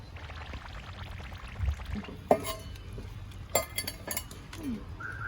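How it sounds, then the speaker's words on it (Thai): Water is poured into a dry cement mix being stirred for a homemade plant pot, a faint trickle broken by a few sharp scrapes and knocks of the tool against the container. "ถ้าผสมกันเข้ากันดีแล้วนะคะ ก็เริ่มใส่น้ำลงไปเลย"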